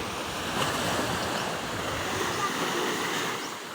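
Sea waves washing onto the shore, a continuous loud roar of surf with some wind noise against the microphone.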